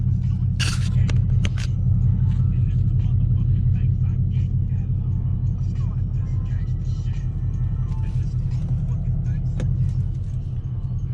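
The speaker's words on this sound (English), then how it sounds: "My car is on because it's hot, and I have the AC on" A 2014 Mustang GT idling with the air conditioning on, a steady low engine rumble that runs unbroken, close by, with a few faint clicks and scrapes over the top.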